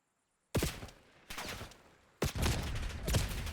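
Gunfire in the Black Ops 6 video game during a ranked match, loud and close, with rapid automatic bursts starting after a moment of silence, a short pause, then renewed sustained firing.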